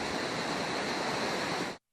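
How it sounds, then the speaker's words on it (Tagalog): Floodwater rushing along a normally dry creek in Mabini, Batangas after days of heavy rain, a dense continuous roar of churning water, loud and close, cutting off abruptly. "Daanan daw ng baha ang nakunan niya ng video na kadalasan ay tuyo kapag walang ulan."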